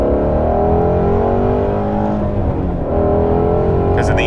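Ford Shelby GT350 sports car exhaust heard from inside, a loud continuous droning rumble that holds steady and rises slightly in pitch toward the end.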